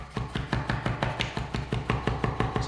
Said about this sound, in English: So keep chopping.